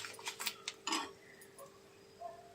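A spoon clinks and scrapes in a pan while roasted curry leaves, sesame seeds and flax seeds are stirred. There are several quick metallic taps close by, then fainter scraping.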